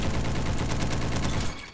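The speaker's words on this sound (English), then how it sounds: "The new god weapon, Galil. I could hit so many shots with this." Sustained rapid fire from a Galil rifle in the video game Bad Business, loud and dense with no pauses, cutting off abruptly near the end.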